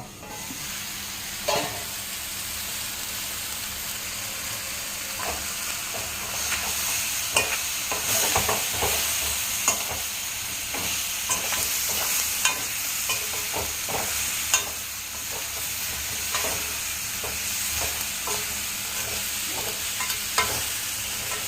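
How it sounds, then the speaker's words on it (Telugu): Crab curry (iguru) cooking in a pan, a steady sizzle overlaid with repeated scraping and clinking from stirring, close and continuous, with no voices. "ఇక్కడ మగ్గుతుంది మన ఆ పీతలు ఇగురు"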